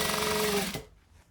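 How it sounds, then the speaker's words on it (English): A sewing machine top-stitching a jacket runs in a fast, even whir of needle strokes for under a second, then stops, leaving quiet room tone. "I'm going to top stitch everything."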